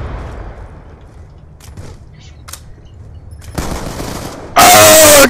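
Gunfire in Black Ops 2 Gun Game, a sudden loud close burst of rapid shots near the end after quieter game sounds and a player speaking.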